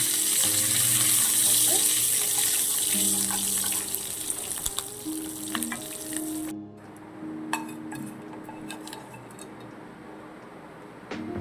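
Loud sizzling of curry leaves and seasoning frying in hot oil for an ivy gourd and eggplant chutney, with clinks and running-water noise; the hiss drops off abruptly midway, leaving quieter kitchen clatter.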